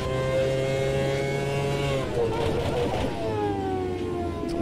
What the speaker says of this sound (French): je réaccélère à fond de suite là